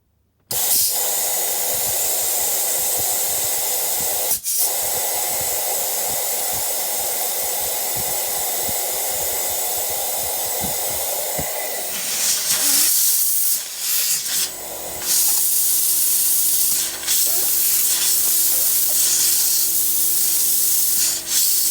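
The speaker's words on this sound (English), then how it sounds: "there's more air going through the pump than I thought there would be." Air hisses hard through an oil pump on a Rapid Rattlers setup, a loud steady rushing spray that runs for about twelve seconds, breaks off briefly, then comes back with a lower droning tone underneath.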